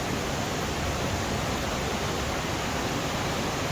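An underground waterfall pours like a curtain inside an old mine, giving a steady, unbroken rushing hiss that stays loud and even throughout.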